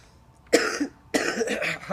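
Two rough coughing bursts from someone with a cold, close to the mic, the second longer and broken into several hacks, with a quiet pause between them.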